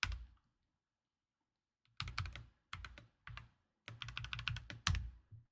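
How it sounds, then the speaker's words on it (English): Keystrokes on a computer keyboard tap out a formula in spreadsheet software, one short click, then a pause, then quick bursts of several close, crisp presses. No one speaks. "I know I use the keyboard to write that formula."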